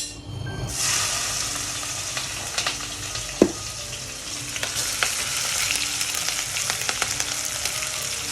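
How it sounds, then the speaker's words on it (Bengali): Chopped onion and potato hit hot oil left from frying rui fish, bursting into a loud, close sizzle that then settles into steady crackling. Stirring clatter and scrapes come through over the frying. "আমি এই মাছ ভাজা তেলের ভিতরে আমি দিয়ে দিব কেটে রাখা পেঁয়াজ আর আলু"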